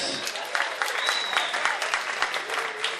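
Dense applause from a comedy club audience on a Friday night, steady clapping filling the room throughout, with a few voices mixed into the crowd.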